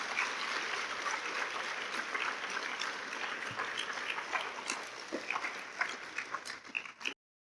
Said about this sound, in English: So let's give them one more huge round of applause.